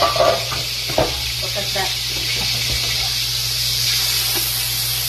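Olive oil and butter sizzle in a preheated pan, giving a steady, close frying hiss that carries through the whole stretch. A person speaks briefly over it near the start.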